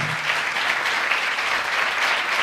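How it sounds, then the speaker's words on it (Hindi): A church congregation breaks into loud, dense applause that holds steady and unbroken from start to finish, with no voices over it. "आओ खुदा के जलाल के लिए ज़ोरदार तालियां।"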